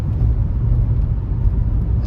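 Jaguar X300 XJ6 saloon rolling over potholed, bumpy roads, heard as a steady, close low-pitched rumble of engine and tyre noise with no talk, continuous throughout.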